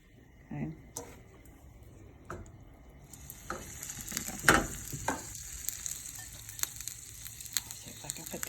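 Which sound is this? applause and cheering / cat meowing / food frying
food frying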